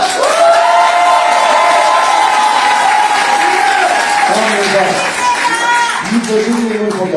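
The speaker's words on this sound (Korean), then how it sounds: "박수 한번 주세요" Audience applause at a political rally launch event, dense clapping and cheering from a large crowd, loud and sustained throughout, with a voice shouting over it near the end.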